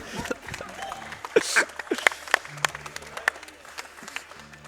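Scattered clapping breaks out from the crowd at a live speedrunning marathon race of Prince of Persia: The Sands of Time, with sharp, uneven claps heard under people talking.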